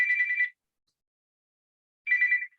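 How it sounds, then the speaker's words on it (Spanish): A telephone rings in two electronic trilling bursts about two seconds apart, clear and alone against silence. "Me está llamando por teléfono"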